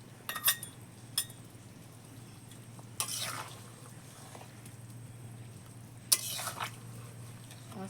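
Ground spice paste and fried silver carp pieces go into a simmering fish curry in a pan, with a few short scrapes and clinks of stirring over a low steady hum.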